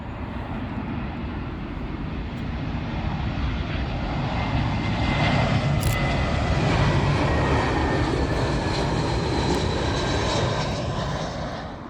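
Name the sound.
British Airways Airbus A320 arriving at Heathrow runway 27L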